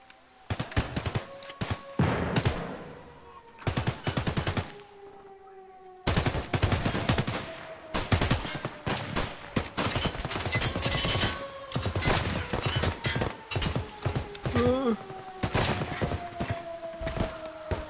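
Gunshots ring out in Escape from Tarkov in its PvE mode, with sharp repeated cracks and short automatic bursts in clusters, fairly close, over a steady droning background.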